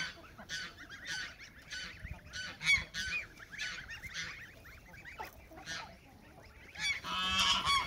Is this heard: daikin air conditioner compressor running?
no